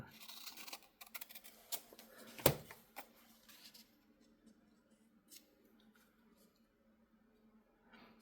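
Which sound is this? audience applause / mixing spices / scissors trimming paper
scissors trimming paper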